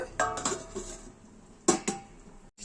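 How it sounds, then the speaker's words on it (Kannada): A metal plate is set as a lid over a pot of chicken curry, giving a few sharp clanks and rattles with a quieter scrape between, close and dry. "ಬನ್ನಿ, ಒಂದು 5ರಿಂದ 10 ನಿಮಿಷ ಪ್ಲೇಟ್ ಮುಚ್ಚಿಕ್ಕೋಣ"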